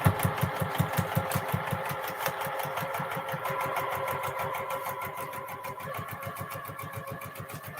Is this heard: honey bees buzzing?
no